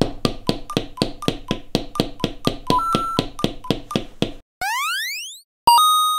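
Rhythmic LEGO Super Mario Peach toy footstep effects, a steady run of bright tapping beeps with a woodwind-like tone, followed by sliding, rising sound-effect tones, loud and close.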